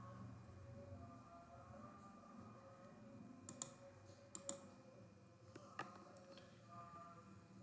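Computer mouse clicks during SCADA trend setup on a PC, with a couple of quick sharp double-click pairs followed by a few scattered single clicks, faint and close over a steady low hum, with no talking.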